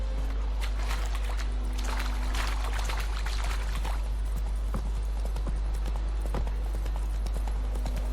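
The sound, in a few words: horse Roach's hooves in video game The Witcher 3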